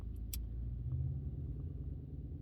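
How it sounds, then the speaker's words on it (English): A big truck pulling a trailer rumbles past, a low steady engine drone that swells slightly mid-pass, heard from a moderate distance with faint clicks above it and no talking. "The truck's big with a trailer, so that actually might be why she's a little more amped up about that"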